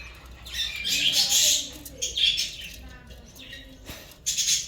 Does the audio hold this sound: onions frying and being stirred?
no